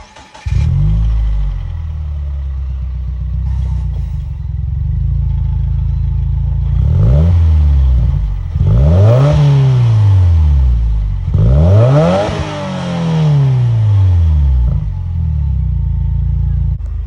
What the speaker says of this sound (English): that was of course the sound of the 2-liter turbocharged 4-cylinder engine sold by Subaru